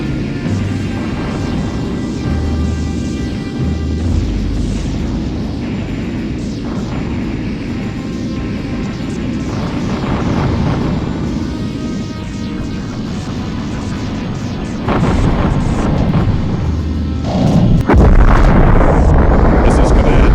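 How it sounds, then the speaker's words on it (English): A capital ship explodes in the space combat game Colony Wars: a long, continuous roar of rumbling blasts and crackling debris under game music, swelling louder near the end with heavier booming bursts. "Let's enjoy a capital ship exploding,"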